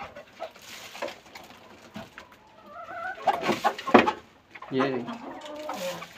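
Chickens cluck and call near at hand while being fed maize feed, irregular bursts of clucking with someone speaking briefly over them.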